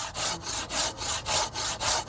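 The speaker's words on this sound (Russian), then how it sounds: "Ну, у нее зуб покрупнее, она по-другому пилит." A Japanese pull saw with coarse teeth cuts through wood in the open air, giving loud, even rasping strokes, about five in steady rhythm, each swelling and fading, with no talk over them.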